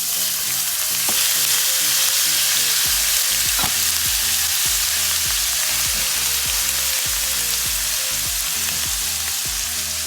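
Garlic and ginger frying in hot oil in a pan for a pork vindaloo masala, a loud dense sizzle running without pause, close and unbroken by speech.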